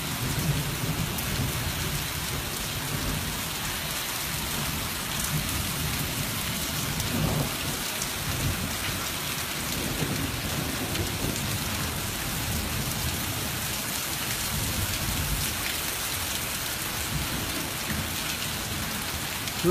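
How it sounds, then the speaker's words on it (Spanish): Heavy rain pours steadily in Michoacán, Mexico, a loud, dense and unbroken hiss on surfaces for the whole stretch, with low rumbling like distant thunder beneath it. "Ahora sí está lloviendo recio"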